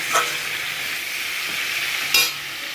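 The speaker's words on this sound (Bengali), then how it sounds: "আঁচটা কমিয়ে রেখেছি, ভাজাটাও হবে একসাথে, সেদ্ধটাও হবে।" Potatoes with salt and turmeric frying on low heat in a pan for aloo posto, a continuous hissing sizzle with two brief stirring scrapes, near and steady.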